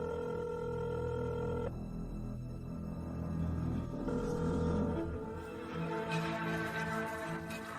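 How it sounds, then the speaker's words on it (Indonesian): A telephone rings with steady electronic tones over a dense, loud background of music or ambient sound, the ringing pattern shifting partway through and continuing throughout. "Angkat telepon, cepat angkat telepon."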